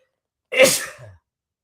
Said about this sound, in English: wow, I sneezed on live television.